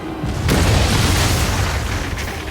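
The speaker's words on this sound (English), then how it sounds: "As the infernal cannons blazed, our hull split down the middle with a sound like thunder." A ship's cannons fire a broadside at sea in a storm, heard as a heavy, sustained rumbling boom that swells after a sharp onset and rolls on like thunder for over two seconds.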